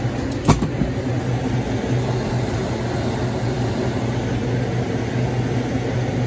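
A repaired walk-in freezer fan motor running steadily, a constant low hum and airy whir with one brief click near the start, close and unchanging.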